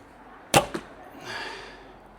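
A long arrow shot from an Alibow Rattle Snake longbow in its long version with a 30-inch draw and 300-grain arrows: a sharp, loud release snap followed quickly by a second crack, then a soft trailing whoosh as the arrow flies away.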